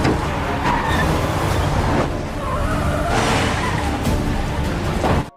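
A car swerves hard to avoid being rammed from the side during a cartel chase, with a loud engine roar and skidding, scraping tire noise running continuously and surging in bursts.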